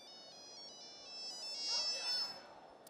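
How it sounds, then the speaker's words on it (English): A mobile phone ringtone plays as a bright electronic melody of repeating tones, fairly faint and steady, with a soft rushing background and no voices. "I'm going to play a ringtone, and you need to find which brand."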